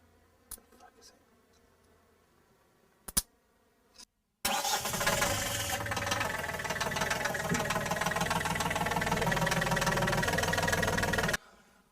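A diesel engine started by shorting the starter terminals with a screwdriver gives a few faint clicks and taps, then catches and runs loudly and steadily for about seven seconds before cutting off abruptly.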